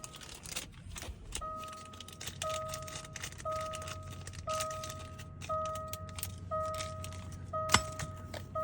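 Keys jangle and clink in irregular bursts while keys are programmed for a 2016 Land Rover Range Rover, with steady repeating electronic beeps from the car over a low hum.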